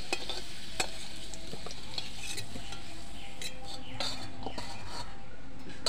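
Salted potatoes fry in a wok with a continuous loud sizzle, broken by scraping and clinking as a spatula stirs them.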